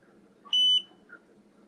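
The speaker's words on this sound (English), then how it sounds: "You get a long beep." A single sustained electronic beep, high and clear, lasting about a quarter second over a quiet background.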